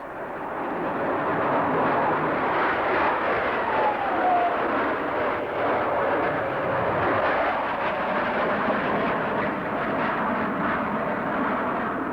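A Lockheed Starfighter jet flies past at an air show, a loud, steady broadband roar that fills the whole stretch with no talk.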